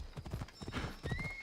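Horse hooves clip-clop in a quick, close rhythm as a rendered horse moves through Assassin's Creed, with faint game ambience beneath.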